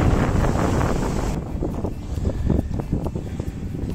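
Strong wind gusts buffet the microphone on a lake with whitecaps during a fall canoe camping trip, a loud, roaring rush that eases slightly partway through, with faint water movement beneath.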